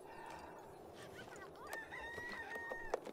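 A rooster crows in The Sims 3 video game, a faint, slightly strained cock-a-doodle call over quiet background noise.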